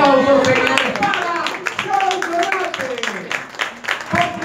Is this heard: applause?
yes